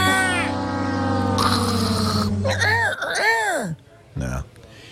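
A sound machine plays a "sick seagull" effect: warbling, sliding squawks that bend up and down in pitch, loud and close, followed by a short electronic honk near the end.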